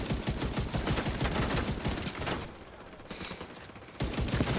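Sustained full-auto gunfire from a 50-round weapon in a video game, a loud, dense rattle of rapid shots that briefly thins to scattered bursts before another hard, continuous volley.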